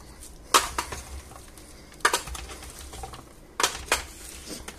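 Potatoes and vegetables with olive oil and sweet paprika are mixed in a dish, giving three clusters of clinking and scraping utensil hits against the dish over a quiet kitchen background.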